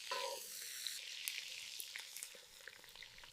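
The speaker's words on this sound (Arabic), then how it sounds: "غادي نحطوا الدجاج في المقلاة السخونه" Chicken pieces in teriyaki sauce frying in a hot pan outdoors, a steady close sizzle with a brief louder hiss at the start and light crackles throughout, no voices.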